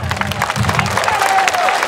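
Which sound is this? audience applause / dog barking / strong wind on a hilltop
audience applause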